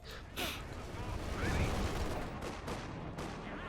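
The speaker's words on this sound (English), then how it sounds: "That's a mortar." Mortar fire and other gunfire in a video game match featuring T-34 tanks, heard as a busy, moderately loud rumble of blasts with sharp bursts near the start and end, with a voice talking throughout.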